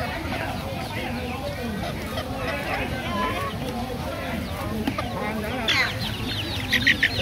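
Chickens cluck and a rooster calls amid the busy bustle of Thanh Binh Market in Vinh Long Province, Vietnam, with steady crowd chatter throughout and sharper bird calls rising near the end.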